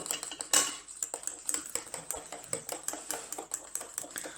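Water stirred little by little into oil for a homemade moisturizing body cream: quick repeated clicks and scrapes of a utensil against a bowl in a steady irregular rhythm, close and fairly quiet, with no talk.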